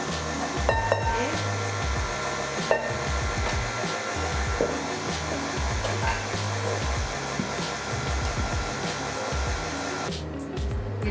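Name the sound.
electric mixer beating chocolate cake batter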